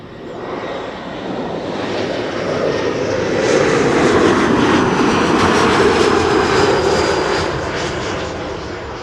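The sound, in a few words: aircraft arriving to land at Schiphol Airport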